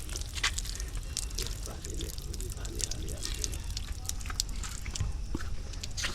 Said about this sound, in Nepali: कुनै कुनै धारामा यसरी पानी पनि आइरहेछ